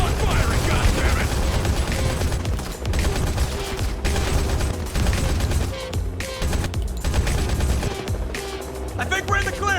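Rapid video-game gunfire, fusillades and machine-gun bursts, crackling continuously and loudly through the whole stretch amid explosions and mechanical clatter, with shouted voices mixed in.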